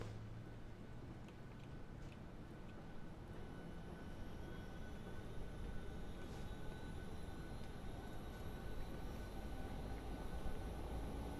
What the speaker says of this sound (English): We can listen to the APU spooling up